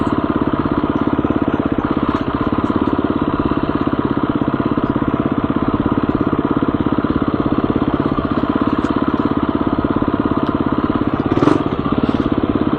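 Motorcycle engine lugging at very low revs in second gear, a steady, dense, throbbing chug close by that holds unbroken the whole time with one brief clunk near the end.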